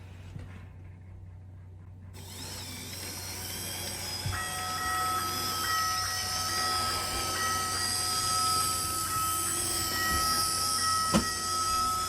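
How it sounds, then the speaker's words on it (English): A Märklin Z-scale model train hums steadily along its track, with a high whine and faint rhythmic clicking, close by and continuous. "I'm going to run the train and you get to hear it."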